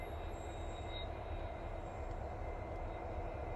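A train rumbles along the rails at a steady pace, low and continuous, heard from some distance with a faint high squeal.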